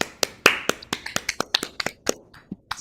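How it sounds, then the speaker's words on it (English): Sharp, isolated claps and finger snaps from a small online audience, a dozen or so scattered hits in loose irregular rhythm, fairly close and clear against a quiet background. "Let's give her a round of applause."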